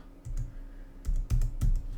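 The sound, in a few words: typing numbers on a computer keyboard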